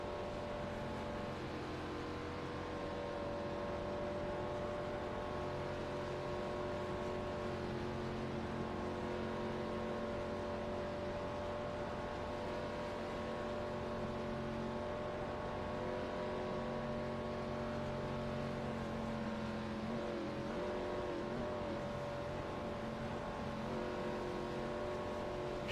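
Stock car engines in a NASCAR-style racing game at a superspeedway drone steadily with sustained tonal whine, a continuous loud roar of several cars running together with slight pitch shifts throughout, no talk.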